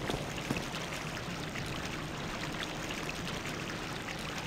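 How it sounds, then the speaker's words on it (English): Steady running water flows in Dark Souls on the path to the Undead Burg: a constant, broad rushing stream with no pauses, fairly faint and unbroken throughout, with no talking over it. "It's water."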